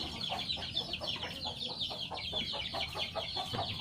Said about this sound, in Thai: เลี้ยงไก่บ้านครับ